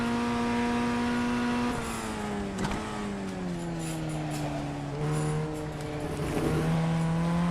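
A Formula 1600 race car engine in the iRacing simulator drones loudly and continuously. Its pitch sags and climbs again through gear changes and corners, with no talking over it.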